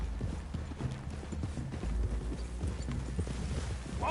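Horse hooves clip-clop at a steady walking pace, fairly quiet and slightly distant, with a faint whinny near the end.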